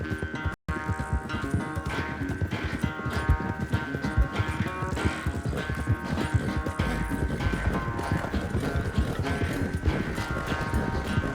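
Horse hooves clip-clop steadily and loudly at a riding pace in the video game Red Dead Redemption II, a continuous rhythmic clatter over ambient game sound with no talk.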